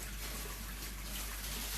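Rice soaking and being rinsed in water to wash away starch, heard as a faint, steady wash of trickling, sloshing water with no voices.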